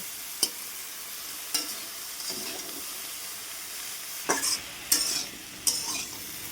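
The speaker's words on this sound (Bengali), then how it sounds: "এখন কুমড়ো শাকগুলো দিয়েও একটুখানি নেড়ে চেড়ে নেব আনুমানিক চার পাঁচ মিনিট সময় নিয়ে নেড়ে চেড়ে ভেজে নেব" Pumpkin greens stir-fry in a pan with a soft, steady sizzle, broken by sharp scrapes and clatters of a spatula turning them, the strokes coming in irregular bursts.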